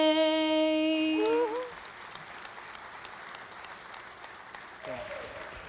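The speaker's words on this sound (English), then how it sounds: "Can we get another round of applause for Anna?" An audience claps steadily at a hall of fame induction ceremony, a thin, moderately distant patter that follows a sustained sung note and continues under faint voices.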